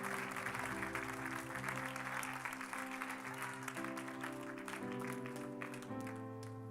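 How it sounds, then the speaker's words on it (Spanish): A church congregation claps for God during a Spanish-language worship service, steady applause mixed with sustained music or organ tones throughout. "Si va a aplaudirle a Dios, apláudale con ganas esta noche y bendiga su presencia."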